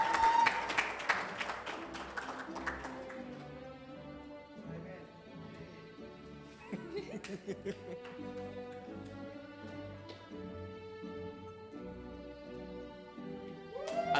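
Applause from a graduation ceremony audience for the Mortgage Exploratory Program graduates, strongest at the start and then fading, with a sustained tonal sound and a faint voice beneath it.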